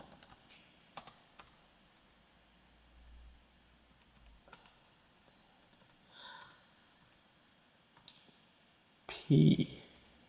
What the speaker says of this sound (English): Let's just quickly type it in.